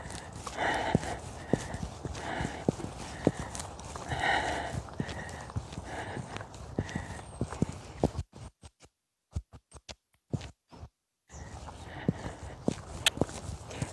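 Steady clip-clop of a ridden horse's hooves walking at a lazy pace, close and clear, with a couple of brief near-silent gaps before the walking resumes.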